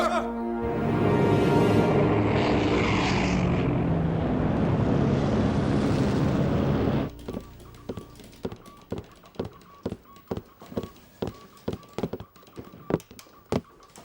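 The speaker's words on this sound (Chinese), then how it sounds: "敌机果然沿着这个诡秘的航线来" A loud propeller plane, a Japanese military aircraft in wartime, drones past overhead, its engine pitch shifting, then cuts off abruptly, leaving a series of sharp regular clicks and taps.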